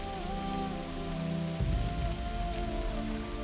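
Steady rain pours down in a continuous hiss that doesn't let up, with music playing underneath throughout.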